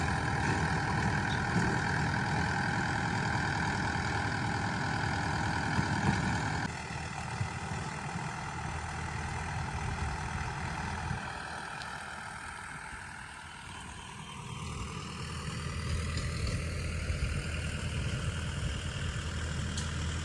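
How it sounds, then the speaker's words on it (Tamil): A tractor ploughs plants into a red-soil farm field, its engine droning steadily at close range, dipping and rising in pitch as it works. "டிராக்டர் வந்து அங்கே இருந்த செடி எல்லாமே மடக்கி உழுது அதையே நமக்கு உரமாக மாற்றி கொடுத்துட்டு"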